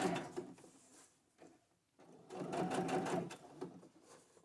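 A sewing machine stitches a fabric envelope in two bursts of rapid mechanical whirring and clatter, with a short quiet pause between them, close and moderately loud.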